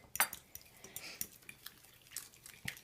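Spices being stirred together in a pan for ginger pumpkin meatballs, with light irregular clinks and taps of a utensil against the pan, close and quiet.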